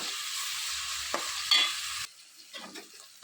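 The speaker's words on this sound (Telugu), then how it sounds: "ఆనియన్స్ అన్నీ కూడా బాగా మగ్గేంత వరకు కూడా వీటిని ఫ్రై చేసుకోవాలి" Onions frying in a pan for a fish curry, a steady loud sizzle with a few scraping stirs of the spoon, the hiss dropping off sharply partway through before light stirring clicks return.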